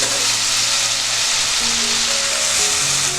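Ginger, garlic and green chili paste hits hot oil for a Bengali prawn malai curry, giving a loud, steady, broadband sizzle and crackle throughout, with no talking.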